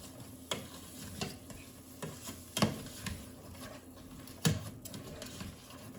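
Red lentil dahl stirred in a pot, a soft low scraping and bubbling with several clearer spoon knocks against the pot, moderately quiet and without talk.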